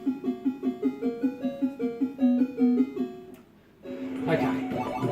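Bouncy chiptune background melody from the Konami/Sega Frogger arcade game, a quick repeating note pattern that pauses briefly before a brighter, busier passage resumes, moderately loud and alone.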